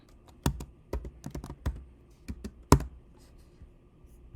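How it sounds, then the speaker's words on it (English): Sharp clicks and keystrokes on a computer keyboard and mouse while working in image-making software, sounding as a dozen or so close, irregular taps spread across the moment with no talking. "And then we're going to just click next."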